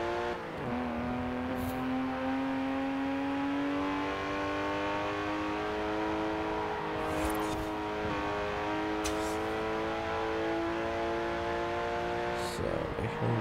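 VW-Porsche in Forza Horizon 4, its engine droning steadily with a rising, shifting tone as it drives, moderate in level beneath someone speaking.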